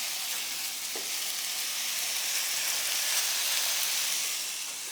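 Greek chicken meatballs fry in a crowded pot, giving a steady, close, loud sizzle and crackle that holds evenly throughout with no voices.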